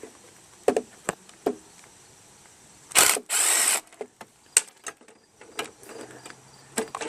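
Clicks of a 3/8 socket ratchet working a fastener on the carburetor of a Craftsman Briggs & Stratton lawnmower with auto choke, in short sharp bursts with two longer rasping runs partway through, close up.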